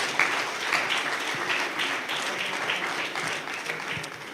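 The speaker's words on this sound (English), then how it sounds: "Somebody give a big hand clap unto the Lord." An audience claps steadily and fairly loudly at a church empowerment service, a continuous wash of applause that holds for several seconds.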